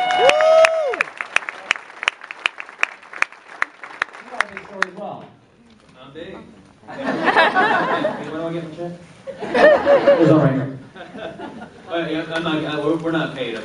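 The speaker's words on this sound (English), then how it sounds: "Give him a round of applause." An audience at a testimony gathering breaks into applause, with a burst of sharp claps first, then waves of clapping, cheering and chatter from the crowd.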